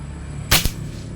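A rifle fires one shot at a 20-meter target: a single sharp, loud crack followed a split second later by a fainter second report, over quiet outdoor background.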